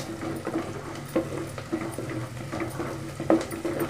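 Onions and curry leaves stirred in a pan while frying fish kulambu, with soft scraping strokes at a steady pace over a low, continuous sizzle, fairly quiet and close.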